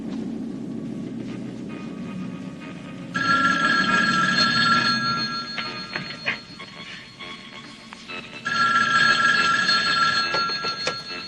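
Telephone bell ringing in a French horror film, two long bursts of loud, shrill, steady electronic ringing with a pause between them, set against a faint background hum.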